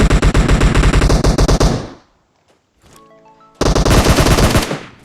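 Rapid automatic gunfire in PUBG Mobile plays in two loud, dense bursts, with a near-silent gap between them carrying faint tonal game sounds.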